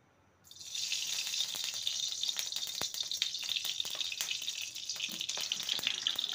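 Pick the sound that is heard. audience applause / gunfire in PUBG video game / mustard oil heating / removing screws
mustard oil heating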